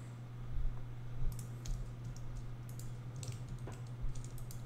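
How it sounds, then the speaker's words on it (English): Computer keyboard keys clatter in quick, light clicks, scattered in small irregular bursts at close range over a low, steady electrical hum. "You can actually hit Alt F on the keyboard and that'll completely bypass it"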